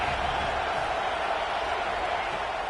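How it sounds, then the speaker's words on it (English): Stadium crowd at an Alabama Crimson Tide football game, a steady broadband roar of cheering that holds loud and unbroken throughout, with no distinct voices standing out. "This crowd bringing the energy and noise early."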